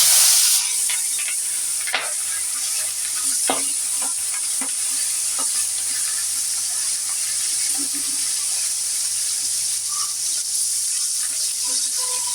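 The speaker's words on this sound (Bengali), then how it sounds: "মাছগুলো ভেজে নেব" Silver carp pieces frying in hot oil, making a loud, continuous hissing sizzle with occasional crackles and faint utensil knocks, with no talking.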